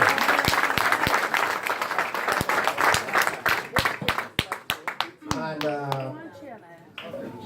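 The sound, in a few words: audience applause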